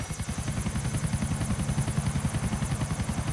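A helicopter in the video game GTA IV sounds with rapid rhythmic rotor thumping and a high whining turbine tone, steady and close throughout.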